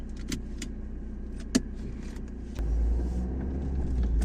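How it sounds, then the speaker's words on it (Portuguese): A 2007 Ford Mondeo Mk4 setting off, with a low steady engine rumble that rises and grows louder partway through, plus a few small clicks and knocks from inside the car. "vamos agora andar com esse Ford e ver como é que é."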